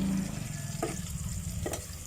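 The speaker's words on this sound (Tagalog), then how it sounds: "Kasunod na po ang sibuyas. At konting halo." Onions tipped into a hot pan and stirred while cooking mussels, giving a steady frying sizzle with two brief scraping stir strokes.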